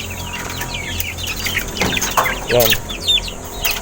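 Rhode Island chickens cluck and chatter nearby in a farmyard, a busy scatter of short calls, with a brief spoken word breaking in near the end.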